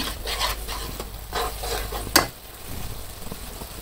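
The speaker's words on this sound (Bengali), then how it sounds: "মশলাটা কষবো, তার সাথে আমি আলুগুলাও দিয়ে দিব। আলুগুলাও ভালো করে মশলার সাথে কষিয়ে নেব।" Masala and potatoes are stir-fried in a pan, with rhythmic scraping strokes over a constant sizzle and one sharp metallic clack near the middle.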